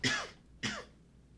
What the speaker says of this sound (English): You'll have to excuse my coughing.